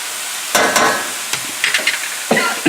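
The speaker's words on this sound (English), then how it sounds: "Now I'm going to add the tomato." Tomato tipped into a pan of sizzling sausage and peppers, a steady fry hiss broken by several sharp scraping stirs and clatters close by.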